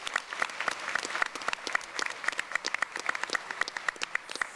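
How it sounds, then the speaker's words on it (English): Audience clapping for a media panel at a chamber of commerce federal election candidates forum in Lethbridge, a steady, dense burst of applause filling the room throughout with no voices. "Yeah, give them a round of applause."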